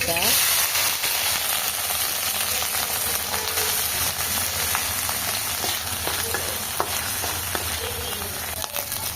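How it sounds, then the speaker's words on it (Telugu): Cut brinjal pieces dropped into hot oil in a pan sizzle and fry with a loud, steady hiss, broken by occasional stirring scrapes. "ఇప్పుడైతే కట్ చేసిన వంకాయ ముక్కలను అయితే వేస్తున్నానండి."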